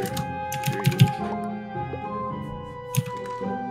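Fingers tap out a message on a computer keyboard for chat in the game Among Us, with uneven clusters of close, crisp key clicks and a few louder strikes over a soft background hum.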